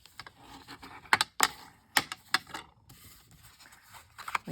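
Cardstock being creased and folded by hand into a gatefold card, a run of crisp paper crackles and sharp snaps with a few louder creases, close up and alone with no talking.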